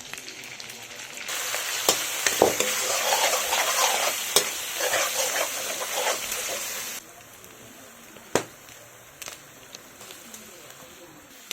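Onions and tomatoes frying in oil with ginger and garlic, a steady loud sizzle with occasional stirring clinks, easing to a quieter sizzle partway through while a voice speaks.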